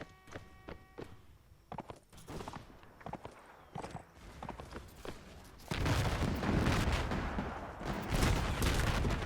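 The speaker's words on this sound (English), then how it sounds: "Fire at my command. We'll do volleys." Infantry musket volleys in the video game Between Empires: scattered sharp shots crack at first, then the volley fire thickens into a dense, sustained roar of gunfire in the second half.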